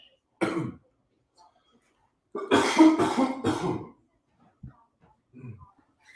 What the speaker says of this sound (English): really just coughing and being all nasty and stuff in my ear